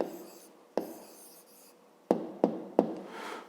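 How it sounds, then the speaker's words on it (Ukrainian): A pen writes an answer by hand on paper for a fifth-grade maths exercise: soft, steady scratching strokes broken by several sharp taps as the pen touches down, close and alone. "Пишемо відповідь."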